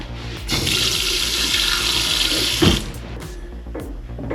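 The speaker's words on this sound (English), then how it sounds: "I hear like all the fixtures filling with water" Water rushing through house plumbing as fixtures fill, a steady hiss of flowing water lasting several seconds before cutting off, with a few faint knocks afterward.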